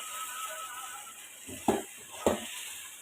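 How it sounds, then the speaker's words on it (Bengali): Potatoes being stirred with spices in a pan, a faint background hiss broken by two brief scraping clacks of a utensil against the pan. "এখন এই মশলার সাথে আমি আলুটাকে খুব ভালো করে মিক্স করে আবারও কষাতে থাকবো"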